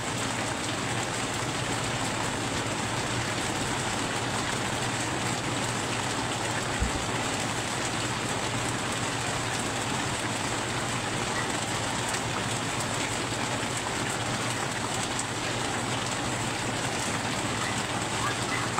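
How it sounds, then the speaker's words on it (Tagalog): Steady heavy rain pours down throughout, a dense unbroken hiss at close range with no talk over it. "lumakas na naman pong ulan"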